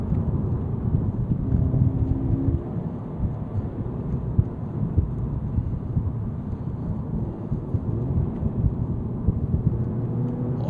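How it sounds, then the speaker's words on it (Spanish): Subaru WRX STi 2015 engine and turbo under load through gear changes, a steady, loud low rumble heard from inside the car, with no distinct blow-off bursts standing out. "Cada vez que paso de marchas, escucho cómo sopla el turbo."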